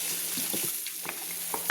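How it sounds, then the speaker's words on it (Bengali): Hot oil with frying spices and potatoes for a katla fish curry sizzles steadily as water is poured into the pan, with a few soft stirring knocks and bubbling bursts. "এবার আমি কিন্তু জল ঢেলে দিচ্ছি, প্রয়োজন মতো আমার জল ঢেলে দিচ্ছি।"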